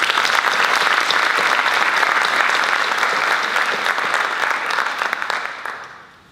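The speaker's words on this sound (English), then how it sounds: "Please join me in a round of applause in honor of Dale Harwell." Audience at a school retiree and departing staff celebration applauding loudly in honor of a retiring staff member, a dense sustained round of clapping that tapers off and fades out near the end.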